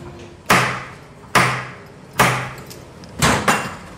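Three loud, sharp knocks on a door in chalk tunnels, evenly spaced with echoing decay, followed by a heavier double thud as the door opens.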